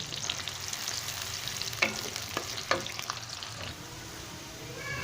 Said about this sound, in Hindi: अभी प्याज सुनहरा करते हैं।